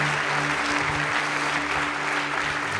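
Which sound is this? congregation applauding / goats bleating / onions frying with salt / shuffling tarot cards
congregation applauding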